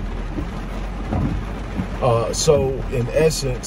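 Steady rain hisses outdoors throughout as someone talks over it.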